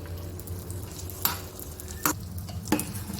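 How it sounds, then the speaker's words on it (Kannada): Cashews and raisins fry in hot ghee with a soft steady sizzle, broken by three sharp scraping clinks of a spoon stirring the pan. "ಈಗ ಅದೇ ತುಪ್ಪದಲ್ಲಿ ಗೋಡಂಬಿನ ಹಾಕೋಣ, ಒಣ ದ್ರಾಕ್ಷಿ"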